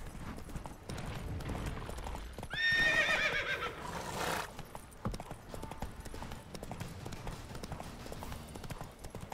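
In The Witcher 3: Wild Hunt, the horse Roach gallops with rhythmic hoof clops throughout and lets out a sharp whinny partway through, under game ambience with faint voices.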